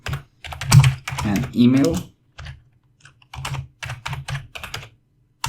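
Rapid keystrokes on a computer keyboard come in uneven clusters after a stretch of talking, clicking on through to the end with brief pauses between bursts.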